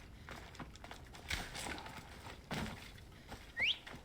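Horse hooves in Assassin's Creed Odyssey, a few soft clip-clops and thuds at an uneven pace, moderately near against a quiet game background, with a short bright chirp near the end.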